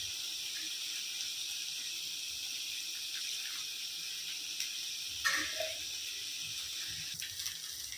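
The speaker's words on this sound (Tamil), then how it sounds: "இப்போது கறி வேகிறதுக்கு உண்டான தண்ணியை நம்ம சேர்த்திக்கலாம்." Water poured steadily into a pan of country chicken curry, a continuous close splashing stream with a brief sloshing burst partway through.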